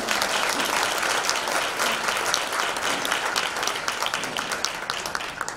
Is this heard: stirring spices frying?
no